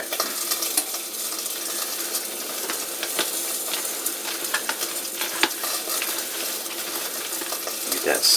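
Corndog bake mixture, with an egg and butter in it, stirred by hand in a bowl, giving a steady close scraping and swishing that carries on for several seconds with soft clinks, and no talking.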